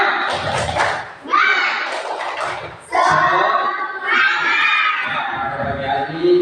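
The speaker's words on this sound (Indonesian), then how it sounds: "tangan, tepuk semangat." Students in a classroom perform a tepuk semangat clapping chant, voices shouting the words in unison in short bursts over dull thumping claps, loud and close.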